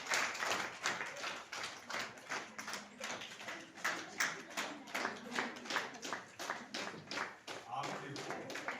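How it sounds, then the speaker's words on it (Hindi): Audience at a school management committee meeting clapping in a steady, rhythmic beat, each clap distinct and evenly spaced, with a voice talking underneath. "तालियों में कमी नहीं आनी चाहिए।"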